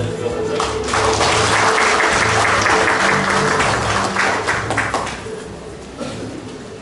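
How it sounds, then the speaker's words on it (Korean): A crowd at a 2017 G-Market promotion forum claps to welcome a speaker, dense sustained applause that holds steady and then thins out near the end, with faint voices underneath. "유재기 박사님은 큰 박수로 맞아주시면 감사하겠습니다."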